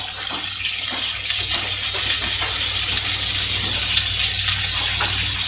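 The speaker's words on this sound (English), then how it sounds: "we got a lot more hiss and sizzle out of it" Hamburger patties sizzle in a hot pan with a loud, steady, close hiss and crackle, spattering continuously without any talk.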